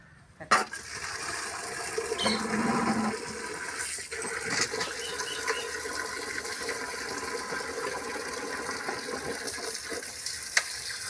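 Water runs steadily while freshly cut vegetables, trimmed from their leaves, are rinsed nearby, a constant rushing flow with occasional knocks and splashes and no talking.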